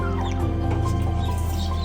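A hen about to lay eggs clucks softly and continuously nearby on an Outback station, over a steady low hum, with no talking.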